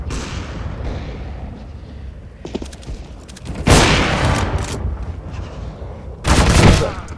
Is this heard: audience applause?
no